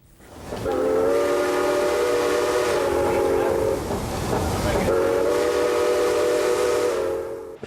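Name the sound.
classic locomotive Old 261 pulling a train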